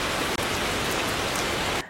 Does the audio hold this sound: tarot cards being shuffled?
no